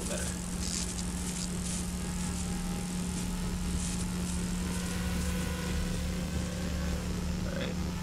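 A drone flying in the video game Watch Dogs Legion, a steady droning propeller hum holding at an even level throughout, with no pause.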